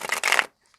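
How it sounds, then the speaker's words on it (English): A tarot card deck is shuffled by hand in two quick riffling bursts, a close, crisp papery flutter lasting about half a second before falling silent. "So let me shuffle this a couple of times."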